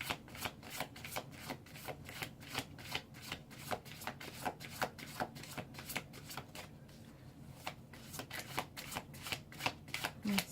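Tarot cards being shuffled and drawn during a Taurus reading, a steady run of crisp riffling snaps and soft slides, close and clear throughout with no talking.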